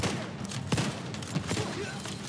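Several shotgun blasts fire in a video game firefight, Tom Clancy's The Division, sharp broadband bangs spaced irregularly over a steady background din, fairly loud and close.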